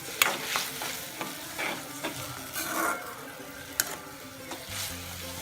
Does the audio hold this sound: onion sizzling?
yes